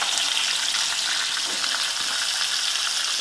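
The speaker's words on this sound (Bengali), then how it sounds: "আলুটা একটু আঁচ কমিয়ে কমিয়ে ভাজবো, তাড়াতাড়ি নরম হয়ে যাবে" Potatoes fry in a pan over low heat, giving a steady, close sizzle that holds evenly throughout with no talking.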